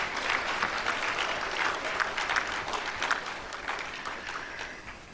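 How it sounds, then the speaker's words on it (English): Sustained applause from a conference audience after a speech on a panel about Ghana's 1992 Constitution, a dense, even roar of many hands clapping that holds steady for several seconds at moderate distance, with no talking. "I think this speech deserves another round of applause."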